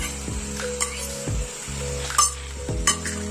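Water goes into a pan of frying pumpkin curry, setting off loud, bursting sizzles and hissing, with spoon stirring and scraping against the pan over a low steady hum.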